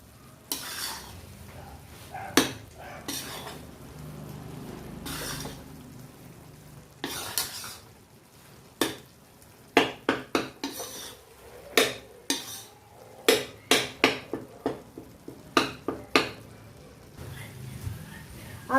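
Wheat flour roasting in ghee for panjeri, stirred with a spoon in a pan, giving a faint background sizzle and a series of sharp, close scraping and tapping strokes that come in irregular bursts, with occasional speech.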